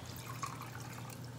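Tequila poured for a specialty drink, a soft steady trickle of liquid running close by.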